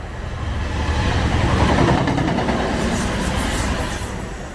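A train rumbles across an old metal railway bridge over a canal between Selly Oak and Kings Norton, a steady, loud rolling roar with faint clatter that swells mid-pass and eases slightly toward the end.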